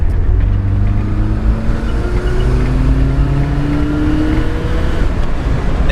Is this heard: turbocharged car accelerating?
yes